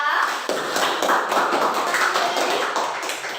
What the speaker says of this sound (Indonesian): tepuk tangan buat Dendi ya